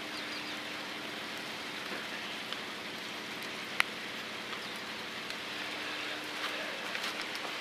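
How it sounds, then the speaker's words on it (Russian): Steady rain falls on outdoor paving tiles, a dense, even patter with scattered sharper drops close by and no voices. "Будем ждать окончания дождя."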